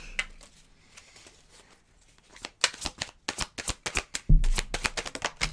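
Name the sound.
shuffling a deck of cards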